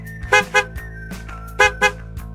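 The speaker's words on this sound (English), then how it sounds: "Honk is the short, loud sound a car horn makes." Short, loud car horn honks sound close by in two quick pairs of bright, brassy toots separated by a brief pause, with fainter low blips between them.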